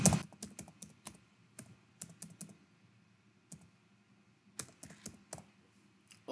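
A password goes in on a computer keyboard as a scatter of sharp, close key clicks, quick bursts broken by pauses, with no speech over them.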